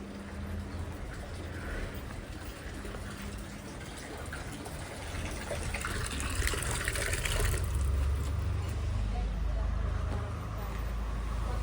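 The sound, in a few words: water from a tap filling a bucket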